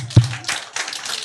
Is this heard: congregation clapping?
yes